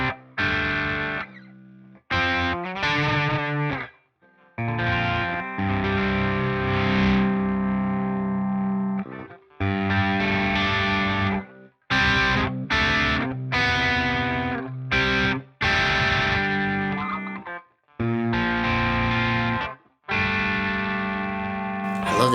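Distorted electric guitar riffs played through a 5150 amp preset into a Boutique Room cabinet, loud and close, in chugging bursts separated by short silent gaps.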